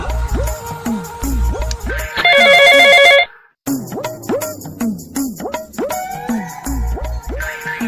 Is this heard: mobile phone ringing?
yes